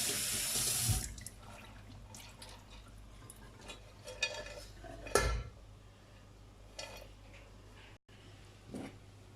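Anise seeds are rinsed under a running kitchen tap, with water splashing steadily into the sink amid light clinks of dishes and utensils.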